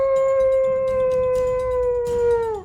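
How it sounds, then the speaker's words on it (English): Wolves howl across the background of a game scene, a long sustained wavering tone with layered harmonics holding steady for nearly three seconds before tailing off, fairly loud over a low rumbling bed. "You hear the wolves pick up again as they are howling across the background."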